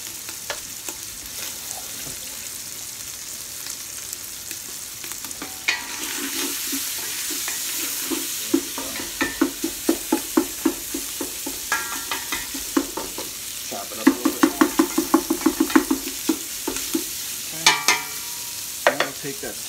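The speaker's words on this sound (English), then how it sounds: "Sausage is just about ready to come out." Sausage for chili fries in a pan, a steady low sizzle with repeated sharp stirring scrapes and clatters that grow busier and louder midway, heard close with no talking.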